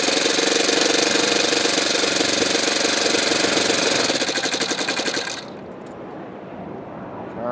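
A Saito twin-cylinder model glow engine runs at a loud, buzzy, steady rattle for about five seconds. It then drops to a quieter, lower sound, with faint background noise afterward.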